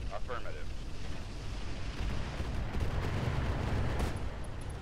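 Battlemech weapons fire in the RogueTech game, a dense, sustained roar of heavy gunfire and booming blasts that rumbles loudly throughout with no break.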